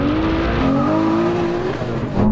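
A Nissan GT-R and a Ferrari launching side by side in a drag race, engines revving hard with rising gear-climbing pitch sweeps and faint tire noise, loud and close for the whole stretch.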